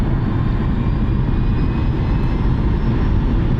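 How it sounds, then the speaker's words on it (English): A Hyundai Kona Electric Premium 64 kWh accelerates uphill at full throttle, filling the cabin with a loud, constant roar of road and wind noise and a faint high whine. "Now we're going uphill, and let's see what the power is. Uphill, full throttle,"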